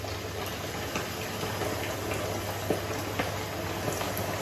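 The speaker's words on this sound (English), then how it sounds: "I'm gonna put in the first fish into the oil." Fish fries in hot oil with a steady, dense crackling sizzle, close and fairly loud, holding even throughout with small pops and no voices.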